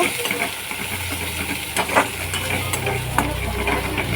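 Khorkol leaves are stirred in a hot pan, giving a dense, continuous close sizzle. Scattered metallic clinks and scrapes from the stirring spoon sit on top, with a low steady hum underneath.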